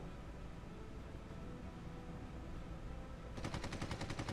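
Rapid machine gun fire from a WWI biplane in the arcade flight game Red Wings: Aces of the Sky, a fast steady rattle bursting in near the end over a constant faint engine-like hiss.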